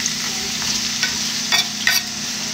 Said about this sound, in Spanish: Ya tengo el aceite aquí, le vamos a poner la cebollita.